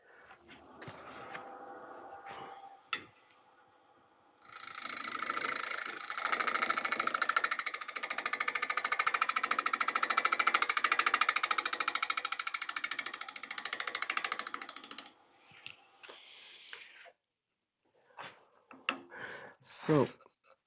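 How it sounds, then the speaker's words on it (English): Power sander working a Sri Lanka rosewood incense holder, a steady loud whirring grind lasting about ten seconds, preceded and followed by quieter handling noises and brief pauses. "then I'm already ready to sand"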